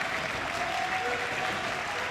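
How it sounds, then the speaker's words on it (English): Crowd at a high school basketball game in Milford, a steady wash of cheering and applause filling the gym, moderately loud and continuous throughout with no clear individual voices. "Milford crowd staying loud."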